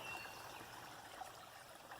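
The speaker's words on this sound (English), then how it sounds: "You should be able to hear the creek in the back." A forest creek flows near large sycamore trees, a steady, soft trickle and wash of water that continues evenly and faintly throughout, with no voices over it.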